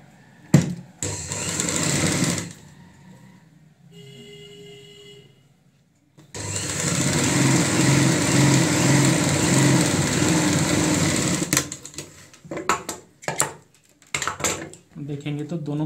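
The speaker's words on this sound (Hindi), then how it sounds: "और यहाँ पे लगाएंगे हम सिलाई।" A sewing machine stitches a panel of a ladies' handbag, its motor running in a steady, fairly loud whir for about five seconds, framed by brief clatter and a voice talking before and after.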